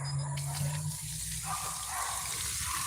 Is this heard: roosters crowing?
no